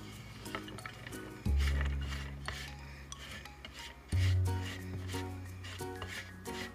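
Chopped onions and garlic scraped and dumped into a crock pot, with rough rubbing and scraping against the pot and two heavy low thuds as the pieces drop in.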